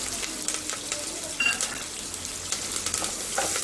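Garlic, onion and curry leaves fry in a pan with a continuous soft sizzle, broken by occasional crackles and the light scrape of stirring, close and steady throughout.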